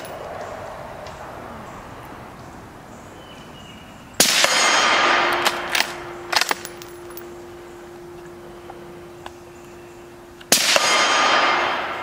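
Bullets from a suppressed bolt-action rifle strike a metal target, ringing out as two loud clanging hits several seconds apart, the first leaving a long sustained metallic tone, with small ticks and knocks in between.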